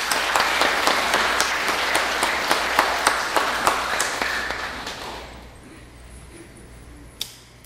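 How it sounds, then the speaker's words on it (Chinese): Congregation clapping during an Easter joint worship service, dense applause for about five seconds, then fading to near silence with a single late clap. "我们一起用掌声荣耀来归给我们天父上帝"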